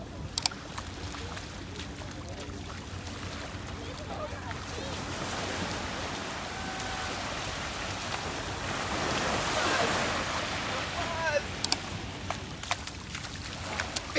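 Sea waves washing in at Dumas sea face in Surat, a steady broad wash of surf with wind noise on the microphone, rising briefly toward the middle of the clip.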